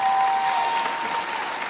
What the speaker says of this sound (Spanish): Denle un aplauso al Pastor Edwin.